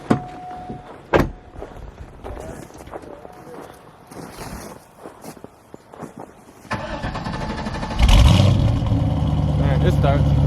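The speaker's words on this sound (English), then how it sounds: "Justin's about to do the first cold start. I want to see how it sounds." A Chevrolet C5 Corvette does a cold start in January. After clicks and rustling, the starter cranks and the engine catches with a loud roar, then settles into a strong, steady idle. People talk briefly around it.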